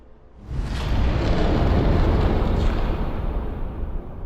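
A supersonic rifle shot fired outdoors: a loud boom bursts in about half a second in, then rolls into a long, rumbling, roaring decay that fills the remaining few seconds.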